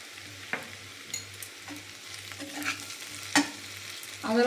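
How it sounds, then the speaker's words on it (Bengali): Potatoes and onions frying together in a pan for a spicy egg and potato-eggplant curry, with a steady low sizzle broken by a few sharp stirring scrapes and clinks, close and alone. "আলু আর পেঁয়াজ একসাথে ভেজে নেবো।"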